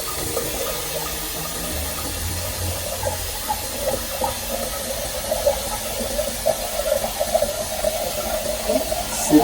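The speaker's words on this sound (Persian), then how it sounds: "صدای تقتقای آب رو میشنید؟" Water runs from a tap into a kettle or container while filling it to brew tea, a steady soft splashing with small bubbling, gurgling ticks that grow a little livelier toward the end, heard alone at close range.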